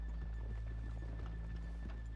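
Horses clip-clopping in Red Dead Redemption 2, a quiet, steady run of hoofbeats on a rainy town street, with no talking over them.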